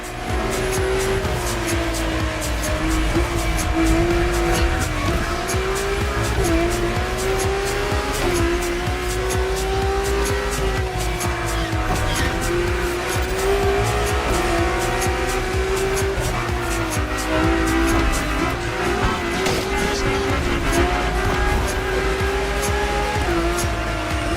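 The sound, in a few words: drift car racing with tire squeal in The Crew Motorfest video game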